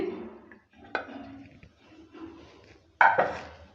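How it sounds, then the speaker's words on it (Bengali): A lid lifted off a pot of batter steaming for fifteen minutes while coconut-filled patishapta is made, giving a sharp metallic clink, then soft scraping and a second bright clatter near the end, close and fairly quiet. "এখানে পনেরো মিনিট হয়ে গেছে ঢাকনাটা এবার তুলে নিচ্ছি"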